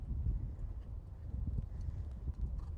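A horse cantering on the left lead, slightly downhill toward a show jump near a barn, with steady rhythmic hoofbeats on turf in a continuous outdoor rumble.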